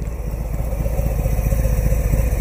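A Harley-Davidson Softail Heritage Classic with the 114 Milwaukee-Eight V-twin engine running, a deep, pulsing rhythmic thump close by, steady and loud with no talking.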